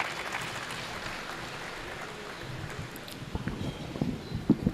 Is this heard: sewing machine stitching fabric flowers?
no